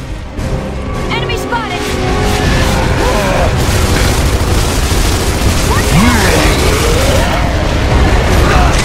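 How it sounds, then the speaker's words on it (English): Mortar blasts and battle noise in Gears of War Judgment, a loud, continuous rumble of booms and debris with game voices shouting over the top. "Another mortar!"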